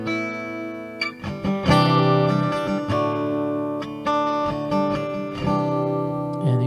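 Acoustic guitar routed through Helix parallel EQ presets, one path isolating the bass tones and the other the top end, plays a strummed chordal passage with steady, ringing attacks, close and fairly loud, with no voice.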